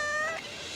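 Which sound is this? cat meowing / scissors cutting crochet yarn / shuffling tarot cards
cat meowing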